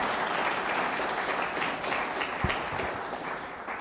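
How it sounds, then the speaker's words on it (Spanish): An audience at a gathering event applauds a team with dense, sustained clapping that holds steady and eases slightly toward the end, heard from within the room without talk. "quiero darle un aplauso al equipo de InfoCap"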